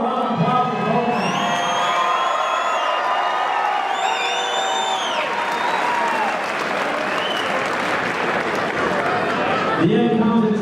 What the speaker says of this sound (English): How round of applause for both men.